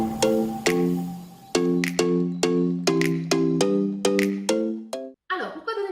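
A bright chiming notification bell effect, a rapid series of ringing ding tones repeating in an even rhythm, loud and clean, ending in a brief scrambled flourish.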